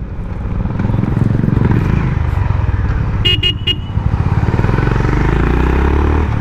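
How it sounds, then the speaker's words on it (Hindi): Honda Highness CB350 motorcycle accelerating hard for a brake test, a loud close engine drone rising in pitch, with a brief horn-like tone in the middle. "ये मैंने बाइक को भगाई"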